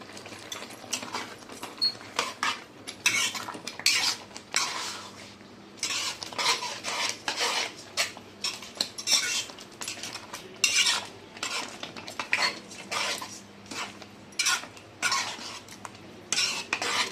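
A spoon scrapes and stirs palak soya gravy in a metal pan, repeated bursts of scraping and clinking in an uneven rhythm with short pauses, close and fairly loud, under a faint simmering sizzle.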